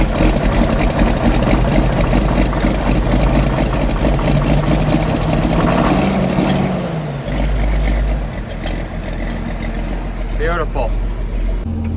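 A John Deere tractor engine idles steadily and close by for most of the stretch, a low continuous rumble that shifts slightly around the middle, with people talking over it.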